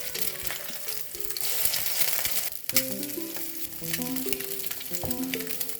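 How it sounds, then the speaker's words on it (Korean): Tuna and other food sizzle steadily in a worn frying pan while a spatula scrapes and flips it in short, sharp bursts. Soft background music plays underneath. "조심스럽게 긁으며 뒤집어줍니다."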